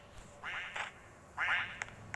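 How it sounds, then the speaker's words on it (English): A cartoonish duck in a Roblox obby quacks twice, close and fairly loud, with short nasal honks separated by a brief pause over a quiet background. "Beware the duck."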